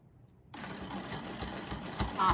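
A sewing machine stitching a quilt starts up after a short quiet moment and runs in a rapid, steady mechanical rattle that grows a little louder toward the end, with no talking.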